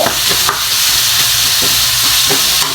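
Salt adobo with chili frying in a pan gives a loud, steady hiss of oil sizzle, with soft scrapes and knocks of stirring at intervals throughout.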